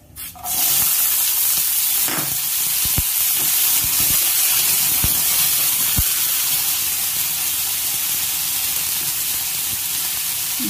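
Green peas dropped into hot oil with cumin seeds and asafoetida sizzle at once in a loud, steady, close hiss, with a few faint clinks and pops over the constant frying.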